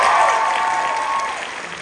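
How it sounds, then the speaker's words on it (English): Audience applauding at a high school theater awards and scholarships ceremony, a steady wash of clapping from many hands that starts full and slowly tapers over two seconds. "let's give them a round of applause"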